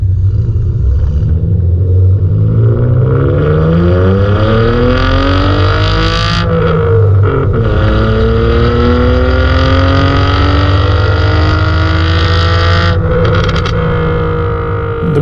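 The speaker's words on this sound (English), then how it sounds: "if you want it to be loud, you just press a button and it becomes very loud" Loud exhaust of a Toyota Celica fitted with a BMW M50 engine, valve open, revving up and down in rising and falling sweeps, close and continuous with no talking.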